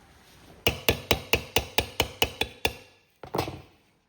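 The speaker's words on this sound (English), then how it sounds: "Let me get a hammer." A hammer tapping a dent out of a Cub Cadet hubcap: eight quick, evenly spaced metallic taps, close and sharp, then a short pause and one final heavier strike.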